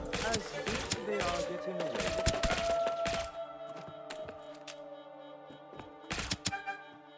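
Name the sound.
gunshots in the video game Deceive Inc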